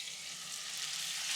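Tomato and onion paste sizzles and fries in a pan of mutton curry, a steady, close, broadband hiss that swells slightly louder toward the end, with no voices.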